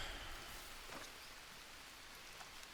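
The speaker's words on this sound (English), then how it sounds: "Let the rain do its thing." Soft, steady rain patters in the Green Hell survival game, a faint even hiss of falling drops with no other sounds.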